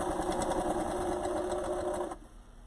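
A sewing machine stitches by hand-driven pace over chenille stems while making a DIY wreath, a steady rapid mechanical whirring throughout that stops abruptly near the end, close and loud with no talk.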